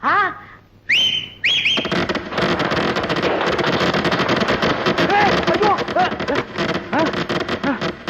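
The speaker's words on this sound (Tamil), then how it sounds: "என்னடா அது விசில் வேட்டு சத்தமா?" Whistling firecrackers go off at a celebration, their sharp rising shrieks starting the burst and then swallowed by a dense, loud, steady crackle of popping explosions lasting several seconds.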